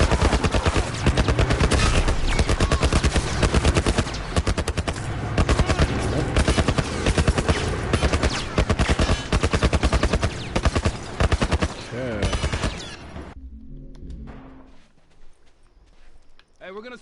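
Rapid gunfire in The Last of Us on Grounded Plus difficulty, dense rattling bursts of shots and impacts for most of the stretch, then cutting off abruptly into quieter ambience, with a voice talking over it.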